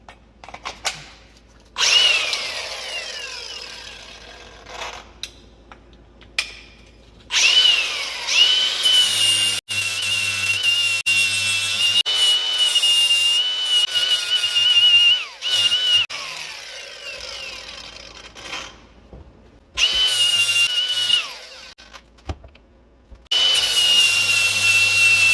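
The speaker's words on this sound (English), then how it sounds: "We're going to switch discs and we're going to clean up all of this part. I'm going to go with a flap disc like this." Flap disc grinding and smoothing an LT1 throttle body coolant bypass, loud close bursts of abrasive whirring that start and stop several times with short pauses between passes.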